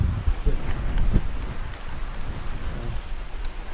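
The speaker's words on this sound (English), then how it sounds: "The rain's just started coming down pretty hard now." Heavy rain pours outside a hunting blind during gun season amid a high wind advisory, a steady, dense hiss with gusty low rumbles, loudest at the start and easing slightly, with no talk.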